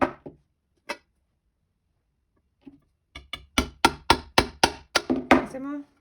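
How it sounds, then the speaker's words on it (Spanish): A hammer drives a nail through the base of a metal can, giving a few sparse taps and then a quick run of about ten sharp, ringing metallic strikes close by, with brief talk mixed in. "Para mí lo más fácil es hacerlo con un martillo y un clavo."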